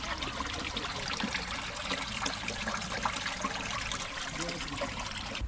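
Water flowing continuously from a cow-head spout at the source of the Betwa river, a steady splashing trickle that stays close and constant throughout, with no talk over it.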